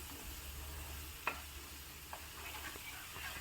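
Tomatoes with salt sauté quietly in a pan for a spicy tomato garlic chutney, giving a faint steady sizzle with a few soft clicks of stirring and no talking.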